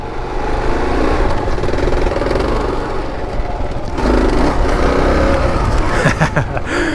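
A 2023 Kawasaki KLR 650 motorcycle engine roars loud and close at full throttle during a wheelie, revving higher near the end, with wind buffeting over it.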